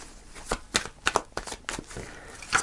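A deck of tarot cards is shuffled by hand, a quick series of soft riffling slaps and flutters over a couple of seconds, close and fairly quiet.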